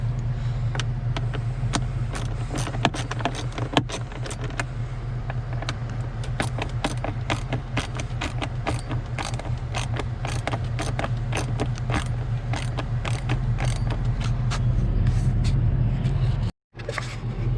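Bolts coming off the air filter cover of a 2011 Freightliner Coronado with a DD15 engine, heard as a rapid clicking ratchet over a steady idling engine hum, with brief metallic scrapes and a short pause near the end.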